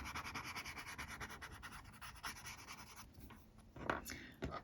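A rubber eraser rubbing out pencil lines on paper, a quiet, close series of rapid rhythmic scrubbing strokes followed by a few sharper scratchy rubs.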